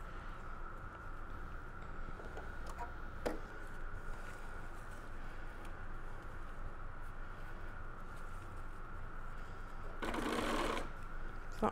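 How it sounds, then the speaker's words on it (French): Sewing machine stitching a zip onto a reusable snack bag, running in a steady fast whir for several seconds, close and moderately loud, with a brief louder burst near the end. "je vais venir coudre la même chose avec le plus proche des dents du zip"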